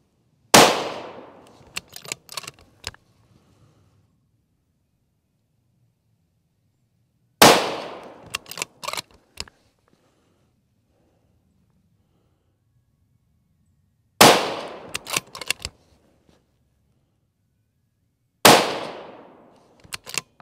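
An Accuracy International AT-X rifle chambered in 6BR fires four sharp, loud single shots spaced several seconds apart, each crack followed by a short echoing tail and faint rattles, with quiet between.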